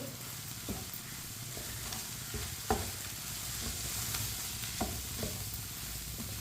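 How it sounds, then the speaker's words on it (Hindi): Egg bhurji with fresh coriander is stirred in a pan, giving a soft continuous sizzle with occasional light scrapes and taps of the spoon, fairly quiet and close, with no speech. "सब्ज़ धनिया डालेंगे, अच्छी तरह मिक्स कर लेंगे"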